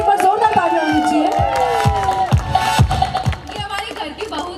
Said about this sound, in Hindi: फोक म्यूजिक के ऊपर जोरदार तालियां होनी चाहिए